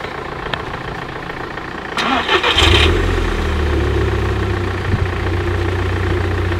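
A car fitted with a Bulix exhaust line cranks and catches after a quiet stretch, then settles into a steady, fairly loud low idle.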